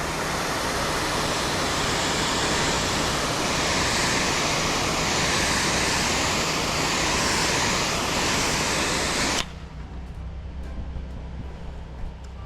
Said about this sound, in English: Hit the plants with some water.